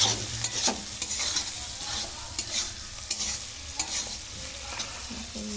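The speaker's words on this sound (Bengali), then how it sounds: "মশলা কষা হচ্ছে, আদা রসুন পেঁয়াজ টমেটো দিয়ে মশলাটা খুব সুন্দর করে কষা হচ্ছে" Chicken masala with ginger, garlic, onion and tomato fries and sizzles in a pan, with repeated close scraping strokes of a spoon stirring through it at a steady rhythm and no talking.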